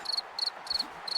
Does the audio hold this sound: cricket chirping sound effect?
yes